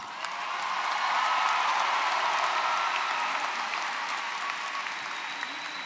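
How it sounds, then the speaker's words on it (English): A large commencement audience applauds graduates at John Jay College's 2019 ceremony, producing a dense, sustained roar of many hands clapping with a few scattered cheers. It stays loud and steady for the whole stretch before easing slightly at the end. "Everybody, let's give our graduates a big round of applause."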